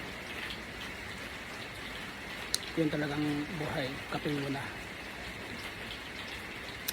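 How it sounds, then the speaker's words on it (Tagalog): Steady rain hisses in the background while a person speaks briefly in the middle. "Sarap pakinggan ng ulan guys."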